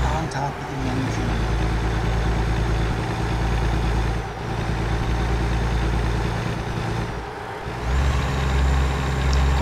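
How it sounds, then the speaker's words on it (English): A truck engine running, heard from a spot right on top of the engine: a loud, steady low drone with a constant rumble that dips briefly twice before settling back to full volume. "it does get a little bit loud because you're right on top of the engine"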